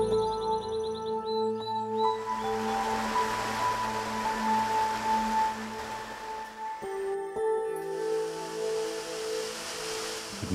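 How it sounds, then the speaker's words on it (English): A waterfall in the Japanese countryside cascades into emerald pools, a broad continuous rushing wash of water heard alone, with a few steady tonal layers beneath it. "the falls gently cascading into emerald pools"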